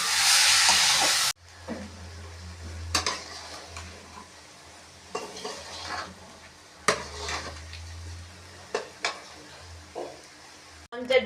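Prawns fry in hot oil with onion and okra for a roasted-coconut prawn curry, a soft sizzle broken by intermittent stirring and scraping clatters of a utensil against the pan, with a voice talking over it.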